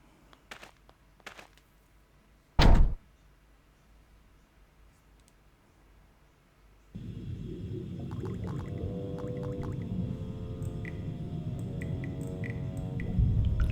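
In Star Wars: KOTOR, a pressure door starts opening with a sharp mechanical clunk, followed after a short quiet spell by a loud, sustained hissing and rumbling machinery drone with faint tonal beeps.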